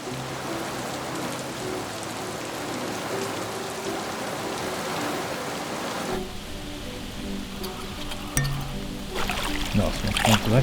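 Rain falling outdoors at a lakeside carp fishing spot as a thunderstorm approaches, a steady hiss of drops hitting surfaces that shifts in tone partway through, with brief knocks near the end.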